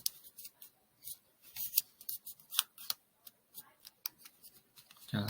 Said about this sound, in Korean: 반대쪽도 끝에서 끝까지 맞춰서 접어주세요.